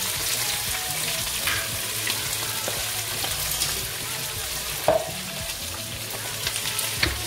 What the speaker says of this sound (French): Je vais mettre les oignons. Mon huile a déjà bien chauffé.